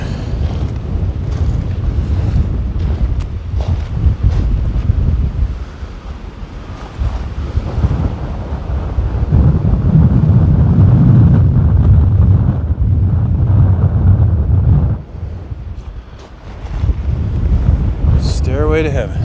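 Strong, gusty outdoor wind buffets the microphone in loud, rumbling blasts that surge and ease over nearly twenty seconds, with a brief lull partway through and a voice speaking under the noise.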